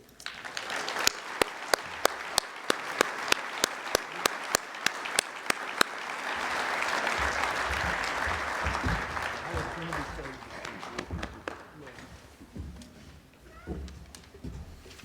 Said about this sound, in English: Y'all should wait till I'm finished before you clap.